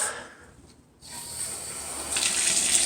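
A tap is turned on to run water over a burn wound. After a quiet moment it rises into a steady rushing stream that grows louder and brighter toward the end, close by.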